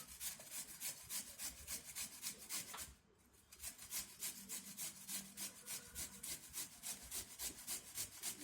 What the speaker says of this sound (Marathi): आता किसून घ्यायचे नाही का,